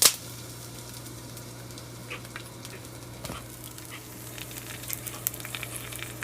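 Puran poli flatbread cooking on a hot pan, a soft steady sizzle with faint scattered crackles and small ticks, quiet and close, with no voices.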